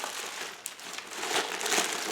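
Crinkling from a bag sewn together out of other plastic bags, handled up close as a continuous rustle with a few sharper crackles, swelling louder toward the end.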